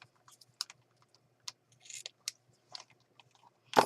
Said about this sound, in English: I'm going to take a little fold of this with some fabric scissors here